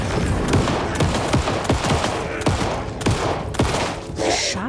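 Rapid gunfire aimed at the player in the video game Alan Wake 2, a dense fusillade of loud cracking shots in quick irregular bursts, close and continuous.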